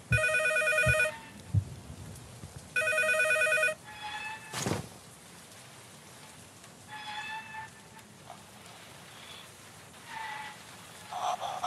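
An old telephone rings in a dim hallway in the horror game P.T., two loud bursts followed by fainter, distorted rings over light rain and a sudden low thud.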